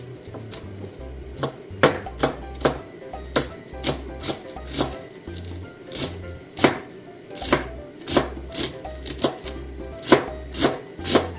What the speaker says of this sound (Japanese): これを よいしょ、刻みます。